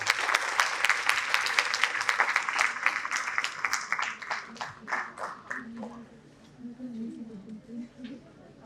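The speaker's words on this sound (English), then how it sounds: "Please welcome this with a loud round of applause." A conference audience at a digital health session claps loudly for several seconds with dense, rapid hand claps that thin out and fade, leaving a voice speaking near the end.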